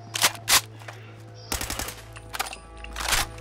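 Modded MP5 or SCAR gunfire in Fallout 4, heard as two sharp separate shots followed by a denser burst of rapid automatic fire, loud and close with no talking.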